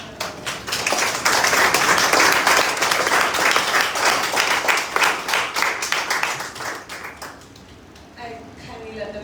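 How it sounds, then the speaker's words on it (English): Audience at a live book launch and photo exhibition on art and human rights in Myanmar breaks into dense, sustained applause that fills the room for several seconds, then thins out and fades toward the end as a voice begins. "I kindly let them finish clapping for you first."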